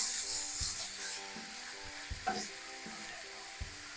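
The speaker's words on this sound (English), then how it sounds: "And we got to stir all that together." Chicken marsala ingredients with added salt are stirred in a sizzling pan. A spoon scrapes in soft, irregular strokes over a steady, quiet frying hiss, and a few sharper knocks come from the pan.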